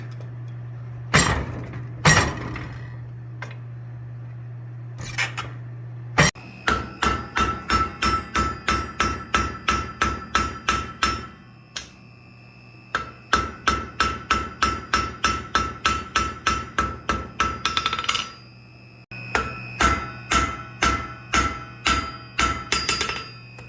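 A blacksmith hammers a metal elephant sculpture forged from a single block, striking in fast, ringing bursts of evenly spaced blows separated by short pauses, with a steady low hum underneath.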